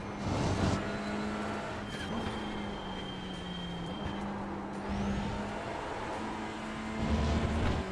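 TCR touring car engines in an iRacing sim race at Donington give a steady, droning mechanical hum with shifting pitch, continuous for the whole stretch at moderate level.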